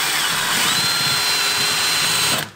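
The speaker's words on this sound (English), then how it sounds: "So we're gonna drill a hole here." Power drill boring a hole into a main bearing during repair of a ZF 6HP26 automatic transmission on a Land Rover Discovery 3, a steady loud whine held close for about two and a half seconds before cutting off.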